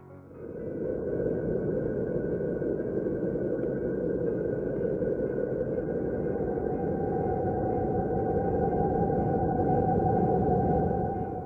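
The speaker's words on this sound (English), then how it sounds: "This audio recording is totally otherworldly, taken from the planet Saturn." Intense radio emissions from Saturn's polar magnetic field region, recorded and rendered as sound. A steady, eerie droning hum carries faint sustained whistling tones, unbroken for the whole stretch.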